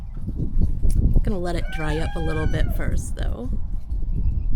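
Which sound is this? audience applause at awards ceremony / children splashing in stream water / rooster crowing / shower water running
rooster crowing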